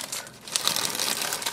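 Wrapping paper crinkles and crumples continuously at close range as a muffaletta sandwich is unwrapped, with no talk over the rustling.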